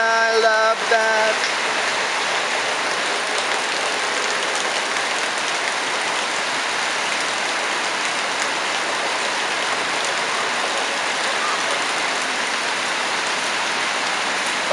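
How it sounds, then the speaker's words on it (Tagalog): Steady rain pours down in a constant hiss of drops on surfaces, uninterrupted throughout, with a brief faint tone at the very start. "Rain, rain, rain,"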